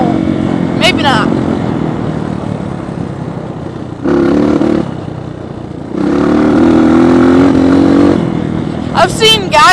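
A dirt bike engine revs and accelerates on a sandy trail, its close motor note swelling in two surges with gear-shift pauses between, under wind rumble and no talk.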